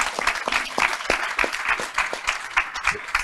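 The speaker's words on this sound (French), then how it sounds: "que vous pouvez applaudir, si vous voulez, bien sûr" Applause from an audience greeting screenwriter and director Yann Kounen at a panel table, a steady dense patter of many hands clapping with no voices over it.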